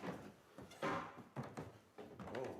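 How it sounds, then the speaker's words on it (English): Unexplained knocking on a wall comes as several dull thuds and bumps in uneven bursts, fairly close and moderately loud, with no speech over it. "we all hear another unexplained knocking sound"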